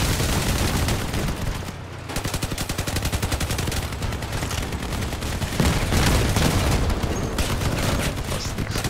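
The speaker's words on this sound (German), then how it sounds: "Okay, ein paar Raketen drüber." Rockets and heavy weapons fire in the vehicle combat game Crossout, a dense, continuous barrage of rapid blasts and bursts lasting several seconds with no pauses.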